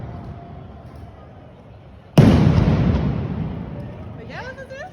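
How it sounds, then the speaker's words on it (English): Fireworks go off at night in Rotterdam: after a quiet murmuring stretch, one sudden loud blast booms close by and rolls into a long fading rumble, with voices and whistling crackles rising near the end. "chaotic atmosphere with a lot of fireworks"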